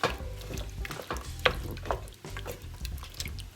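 A spoon stirs coconut milk into curried hog tail in a pot, making close, repeated scraping strokes over a soft, continuous sizzle, with no one speaking.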